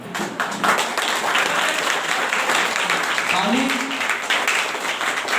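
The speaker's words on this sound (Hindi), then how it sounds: "ताली में दम नहीं आ रहा है।" An audience at a motivational speech breaks into sustained applause, a steady, even wash of clapping with a voice briefly cutting through near the middle.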